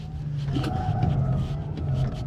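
An Audi RS5 driven hard and thrown sideways in third gear, its engine droning loud and steady at close range with a faint tire scrub over the top.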